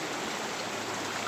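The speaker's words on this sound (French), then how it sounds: "on a le chant des oiseaux, de la rivière" A river flows outdoors with a steady, dense broadband rush of water, close and continuous without pause.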